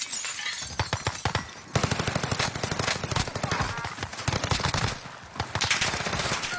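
Rapid automatic gunfire in a Call of Duty match, loud continuous bursts of shots with brief pauses between volleys, dense and close.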